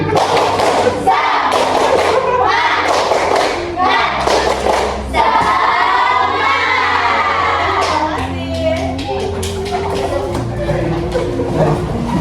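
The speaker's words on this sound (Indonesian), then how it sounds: "Ayo semuanya kita tepuk semangat." A classroom of students performs the rhythmic "tepuk semangat" clapping chant, loud patterned bursts of claps mixed with chanted voices, then a teacher speaks over the room.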